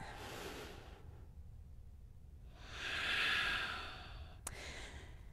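Deep, slow breathing held during a yoga pose in a studio class: a long, airy breath swells to its loudest midway, then fades, close and quiet, with no voice over it.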